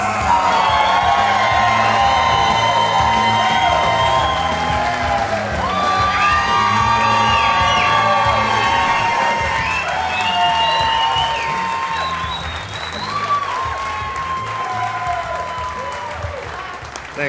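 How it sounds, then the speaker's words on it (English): A live comedy show audience at the Buffalo Rose in Golden, Colorado, applauding, cheering and whooping loudly, with shouts and whistles over sustained clapping that tapers toward the end. "Thanks for giving Sonny a cheer."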